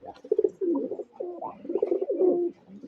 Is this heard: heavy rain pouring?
no